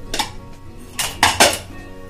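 A metal pressure cooker is handled in a home kitchen, giving a few close clanks and clinks of metal against metal in quick succession.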